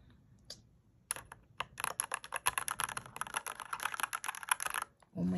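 Rapid, crisp clicking of typing on a Royal Kludge 96K RGB backlit mechanical keyboard, close and clear, starting after a few isolated keystrokes and running as a quick burst before stopping abruptly.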